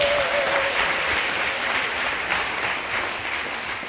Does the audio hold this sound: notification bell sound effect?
no